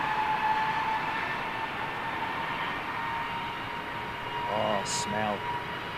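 An Airbus A320neo takes off at London Heathrow Airport, a steady distant jet roar with a faint engine whine that holds throughout, while a person speaks briefly near the end.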